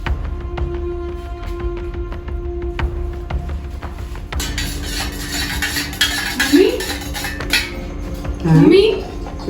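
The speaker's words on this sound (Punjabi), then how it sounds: "ਤੇ ਮੈਂ ਭਾਂਡੇ ਟਿਕਾ ਕੇ ਨਾ ਭਾਂਡੇ ਧੋ ਲਵਾਂ ਤੇ ਚਾਹ ਬਣਾਉਣੀ ਆ" Pots, pans and cutlery clink and clatter steadily while dishes are washed in a home kitchen, with a sustained tone in the background and louder knocks toward the end.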